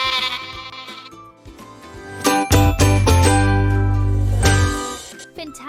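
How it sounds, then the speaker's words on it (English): A goat bleats loudly and repeatedly in a children's counting song, the wavering animal cries sustained over music with a light jingle in the background. "Can you bawl like a goat?"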